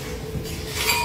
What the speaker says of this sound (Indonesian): kita masukkan di sini es batu yang sudah dihancur-hancurkan ya